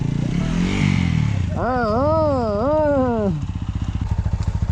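Motorcycles at a roadside stop on a rainy monsoon ghat road in Kalasa, with a loud, close engine rising and falling in a wavering, revving tone before settling into a steady idling putter.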